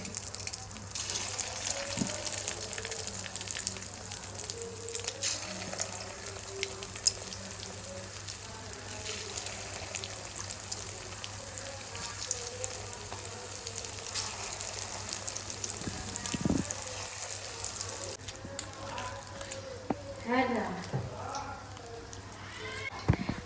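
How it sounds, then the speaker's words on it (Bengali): Potato pakoras of mashed boiled potato frying in oil in a kadai, giving a steady broad sizzle throughout with occasional pops and clatter, while a voice speaks intermittently in the background. "পকোড়াগুলোকে ছেড়ে দিলাম কড়াইতে।"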